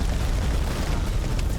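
A grenade explodes in the war horror game House of Ashes, a dense, loud boom with a rumbling low-end wash that fills the whole short moment without any speech.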